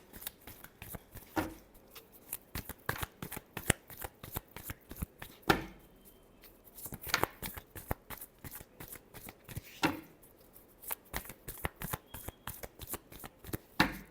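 Tarot cards being shuffled by hand in a run of quick riffling bursts with short pauses between them, close and fairly quiet, no voices.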